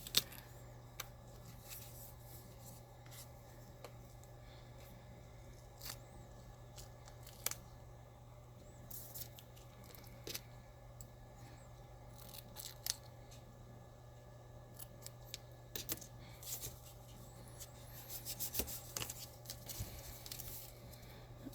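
Scissors snip through a paper book-cover template for a dollhouse book, giving faint, scattered short cuts and rustles against a quiet background.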